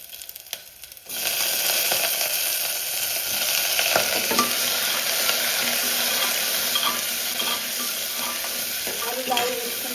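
Potatoes dropped into a pan of browned onions fry with a steady, close sizzle and some stirring scrapes. It opens with a brief quiet moment, then the frying runs on loudly and evenly with no talk.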